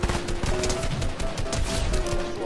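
Rapid assault rifle fire in the video game Fortnite, dense bursts of shots rattling continuously at close range with no pauses.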